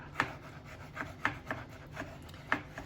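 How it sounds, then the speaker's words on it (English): Hand sanding of mesquite wood to a rough finish before epoxy, with steady back-and-forth rasping strokes about every quarter second, close and fairly clear, with no talk. "the rougher you sand, the better bond you get"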